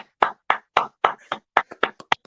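A few people clap in an uneven rhythm, about a dozen sharp, close hand claps spaced irregularly, with no talking in between.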